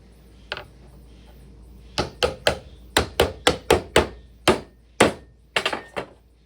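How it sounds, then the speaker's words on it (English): Sharp hammer taps on a panel during Codex Quest assembly, about a dozen close, loud knocks, a lone strike and then quick clustered blows with short pauses. "hammer that on the end."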